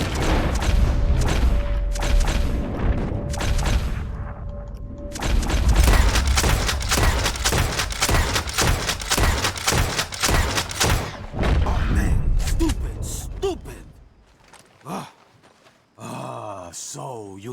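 A loud gunfire shootout in Red Dead Redemption 2: rapid, dense volleys of shots and booms crowd the first twelve seconds, then thin into a few scattered reports before quieter game sounds.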